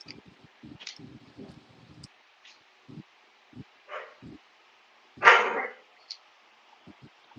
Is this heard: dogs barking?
yes